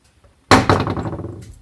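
Metal hammer being removed from a Masterpiece Arms MPA Defender Mini-9 rifle during disassembly: after brief quiet, a sharp close metallic clack followed by a second knock and a ringing, clattering decay.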